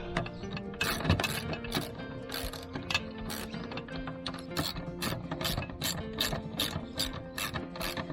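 Repeated ratcheting clicks come from tightening an AL-KO caravan stabiliser leg, a steady rhythm of close, crisp mechanical ticks running the whole time with no talk.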